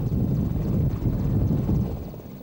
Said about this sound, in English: The RAF's newest helicopter is the three-engined Merlin HC-3, which can carry up to 24 fully equipped troops into battle.